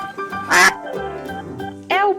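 A duck quacks in a children's farm-animal sound game, two loud nasal calls standing apart with a quieter murmur between them.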